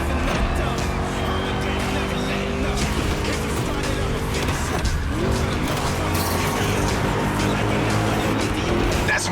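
A car lapping a circuit in The Crew Motorfest roars continuously at close range, engine pitch rising and falling through gear changes, with brief tire squeal.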